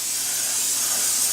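A continuous, loud hiss of cooking spray being sprayed into a pan in one long burst.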